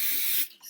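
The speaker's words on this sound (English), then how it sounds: "spray a little bit." Hairspray is sprayed onto hair during a wand-curl styling session, one steady close hiss lasting under half a second before cutting off.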